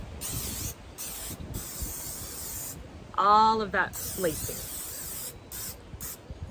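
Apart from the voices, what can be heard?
spraying olive oil from aerosol can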